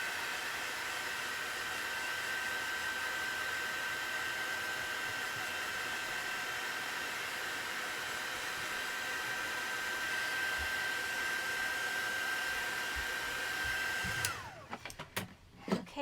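A heat gun dries a mixed media journal card, giving a steady, even blowing rush that holds for about fourteen seconds, then cuts off and leaves a few small clicks and handling noises.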